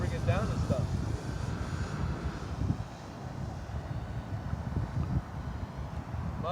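An electric TIMBER RC model airplane flies overhead, its steady motor whine blended with wind noise over the whole stretch, moderately loud and without pause.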